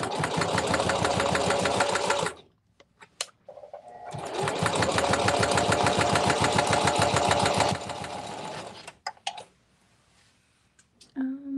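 A sewing machine whirs in two loud, rapid bursts of stitching, separated by a pause with a few small clicks and handling noises.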